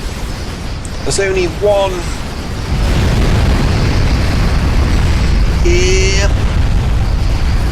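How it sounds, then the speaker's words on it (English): A nuclear strike detonating in the real-time strategy game Supreme Commander, a heavy, sustained rumbling roar that swells and stays loud under a commentator's ongoing talk. "Not sure how much of anyone's base that nuke is going to destroy."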